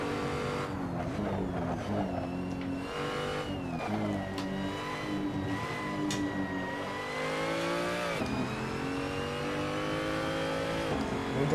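BMW 235i at full throttle on the Nordschleife, a steady engine note climbing through the revs and shifting, loud and close with in-car drone throughout.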